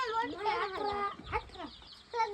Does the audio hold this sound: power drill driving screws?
no